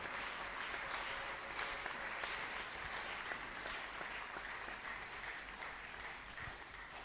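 Congregation applauding during a Sunday church service, a dense continuous wash of clapping that holds steady for several seconds at a moderate distance, with no talk over it.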